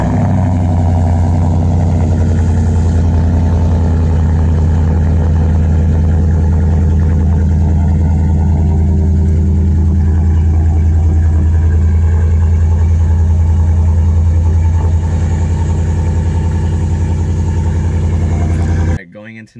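A Ford F-150 with the Coyote 5.0 V8 and a loud catback exhaust idles with a deep, steady rumble, close and loud throughout before cutting off abruptly at the end.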